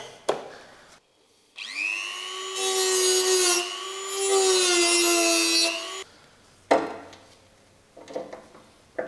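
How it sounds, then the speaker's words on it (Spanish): Whining electric tool with a rising pitch, an impact screwdriver fitted with a flat bit working a screw on a Vespa Cosa 200 scooter, running in two sustained bursts followed by scattered clicks and knocks. "ponerle el destornillador de impacto, pero con una punta plana que agarra mucho más"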